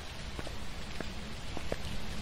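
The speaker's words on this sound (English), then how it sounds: "It's cold and rainy." Steady rain falling outside the Brownstone High School map in Phasmophobia, a soft, even hiss with faint pattering drops, heard alone at moderate volume.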